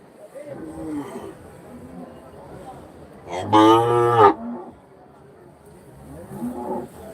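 A calf moos once at a livestock market near Hosur, a loud, harmonic bellow of about a second in the middle, with faint crowd murmur and someone talking quietly before and after.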